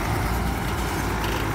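A Manpreet 765 tractor engine runs at a steady, loud, low rumble, close up and unbroken, with no voices.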